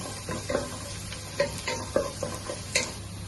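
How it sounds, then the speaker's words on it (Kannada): Chopped garlic fries in a pan for dal tadka, a soft steady sizzle broken by a few light clinks and scrapes of a spoon stirring, close and fairly quiet with no talking. "ನಾನು ಬೆಳ್ಳುಳ್ಳಿ ಹಾಕ್ತಾ ಇದ್ದೇನೆ. ಬೆಳ್ಳುಳ್ಳಿ ಸ್ವಲ್ಪ ಬ್ರೌನ್ ಕಲರ್ ಬರಬೇಕು."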